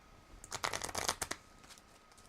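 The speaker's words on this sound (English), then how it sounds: "we're just kind of shuffling and stuff" Playing cards are riffle-shuffled at a table before a Magic: The Gathering Commander game, one quick burst of crisp, rapid flutters lasting about a second, fairly quiet in a calm room.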